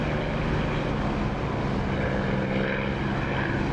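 Propeller aircraft engine in the DCS flight simulator, set to 2,700 RPM, holding a loud, continuous droning roar that stays steady and close throughout with no talk.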